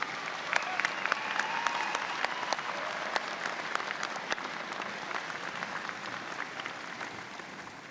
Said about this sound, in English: please join me in a round of applause for the people in your life who have helped get you here